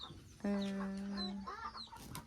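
A chicken lets out a single drawn-out cluck near the mic, followed by softer chatter-like calls, with low background noise.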